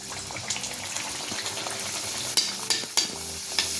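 Bhature frying in hot oil for dhaba-style Amritsari chole bhature, a steady soft sizzle with a few sharp splashes and clinks near the end as oil is spooned over them.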